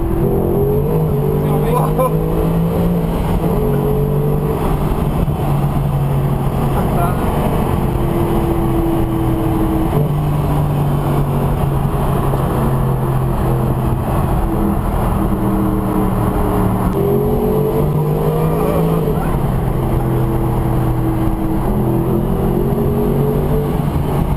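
A Mercedes-Benz SLS AMG Roadster engine roars steadily at close range while accelerating, its pitch rising and dropping through repeated gear changes, loud and continuous throughout.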